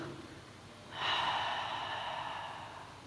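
A single audible exhale through the nose during a Pilates upper-back stretch with hands pressed on the knees, starting abruptly and trailing off slowly as a soft, close breath.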